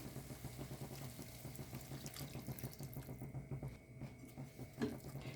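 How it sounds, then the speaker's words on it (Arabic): Water pours steadily into a filling mixture, a continuous faint splashing stream like a running tap with soft bubbling, quiet and alone throughout. "دابا نزيدو شويه د الماء"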